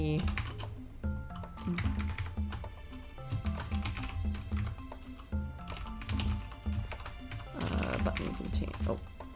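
Rapid computer keyboard typing clatters in bursts over steady background music while someone works on fangame code, the keystrokes close and fairly quick, pausing now and then between runs.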